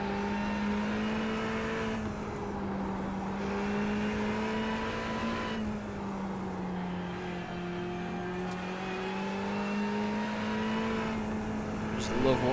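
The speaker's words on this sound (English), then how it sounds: "Look at the way these cars move up there." Simulated race cars lapping Suzuka in a racing game, a steady droning engine note that rises and falls through gear changes, continuous and fairly loud with a voice talking over it.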